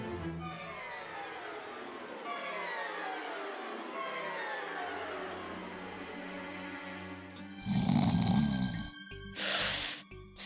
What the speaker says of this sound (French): C'est lui qui ronfle encore. Tu ronfles encore, idiot.